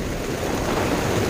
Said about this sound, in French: Bon alors on est en plein déluge là